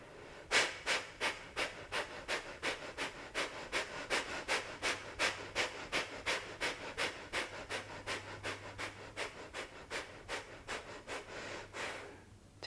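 Fast yoga breathing with quick, forceful inhales and exhales through the nose, a steady rapid rhythm of about two to three breaths per second, close and loud, continuing for over ten seconds with no talk.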